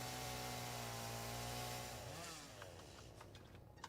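A chainsaw cuts through trees in the video game Satisfactory, its engine holding a loud, steady drone for about two seconds before the pitch drops and the buzz breaks into a rougher, fading sputter.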